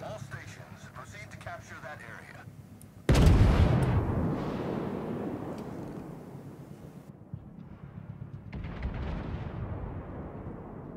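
Warship guns firing in World of Warships aboard the Oktyabrskaya, a heavy booming salvo that rolls into a long rumbling decay over steady game background noise, with a second quieter rumble later and someone talking.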